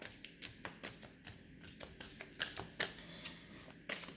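Tarot cards being shuffled and handled, a series of soft, irregular slaps and flicks close by, quiet overall with brief pauses between the card sounds.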